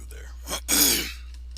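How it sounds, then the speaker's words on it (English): A man clears his throat once, close up: a short rough catch followed by a louder raspy hack lasting under a second, over faint steady background hum. "You hear me clearing my throat a lot."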